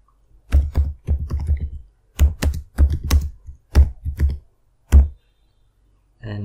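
A computer keyboard types a folder name in short, crisp bursts of close clicking keystrokes separated by brief pauses, with no voice over them.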